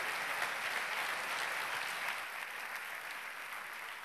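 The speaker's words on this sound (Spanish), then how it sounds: "¡Un aplauso!" A tech-talk audience applauds, a soft, even wash of many hands clapping at a distance, fairly faint and steady, easing off slightly toward the end with no voices over it.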